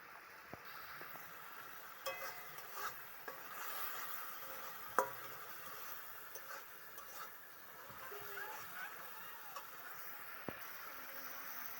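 Ground cumin and coriander fry in a pan, giving a faint, low sizzle with scattered small clicks and taps of a utensil and no voices.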